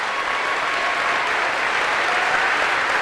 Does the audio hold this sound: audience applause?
yes